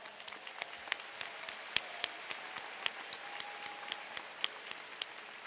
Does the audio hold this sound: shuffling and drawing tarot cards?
no